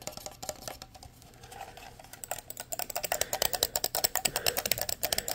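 Rapid keyboard tapping, sparse and soft at first, then building into dense, crisp clicks of fast typing close to the microphone, with no voices.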